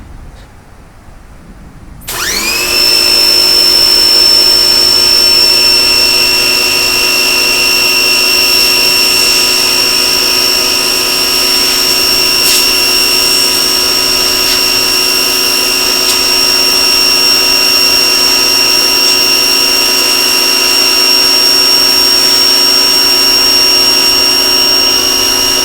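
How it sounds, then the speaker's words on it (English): A Portland 1750 PSI electric pressure washer starts up after a quiet moment and runs steadily, its loud motor whine and pump tones holding constant as the spray hits brick, with no voices. "Let's see how she does on this brick."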